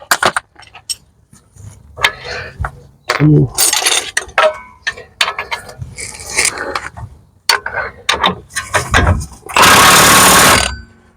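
A ratchet works on a suspension bolt of a BMW E92 3 Series front suspension: close, irregular bursts of clicking and clanking metal, with short pauses and one loud rasping stretch near the end.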